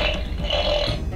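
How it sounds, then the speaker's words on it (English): A fart ninja toy blasts a single continuous, raspy fart noise lasting just over a second, loud and close with no talking. "So you can activate fart mode remotely. So switch him on to fart mode there."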